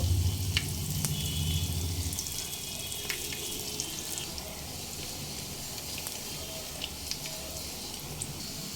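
Banana stem vegetable koftas fry in hot oil over a medium flame, a steady soft sizzle with small crackles and pops, a louder bubbling swell at the start, with no voices.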